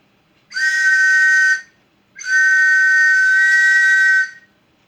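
An old British police bobby whistle from the WW2 era gives two loud, shrill blasts close by, a short one followed by a longer sustained one, with no talking.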